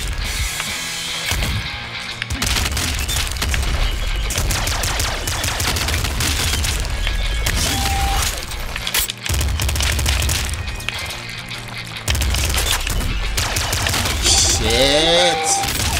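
Rapid cluster launcher explosions in the video game Nuclear Throne, a dense, continuous barrage of popping blasts and mechanical clatter layered over loud game music, with a few brief electronic tones near the end.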